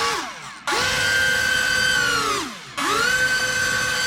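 An electric motor on a radio-controlled B-17 Flying Fortress model airplane whines up to a steady high pitch, winds down, then revs up again, loud and close with no talk.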